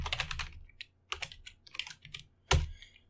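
Quick bursts of keystrokes on a computer keyboard, close and crisp, ending in one firmer key press, with no talk.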